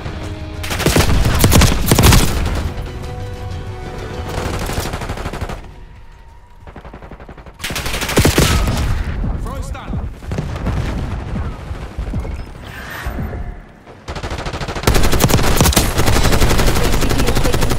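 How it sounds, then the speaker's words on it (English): Heavy gunfire in the video game Call of Duty Black Ops 6 during a PS5 beta match: loud sustained automatic bursts and booming shots, broken by brief quieter lulls before the firing surges again close up. "HVT is taking fire."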